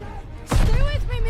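Grenade explosion in Call of Duty Vanguard, a heavy, sudden thud that bursts midway over battle noise and tonal game sounds, brief and loud.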